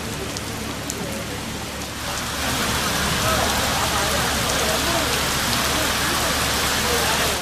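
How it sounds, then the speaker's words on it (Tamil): Heavy rain pours during a night thunderstorm in the Virudhachalam and Chidambaram area of Tamil Nadu. The downpour is a dense, steady hiss that swells louder after about two seconds and stays constant, with no clear thunder. "இரவு நேரத்தில் இடியுடன் கூடிய கனமழை"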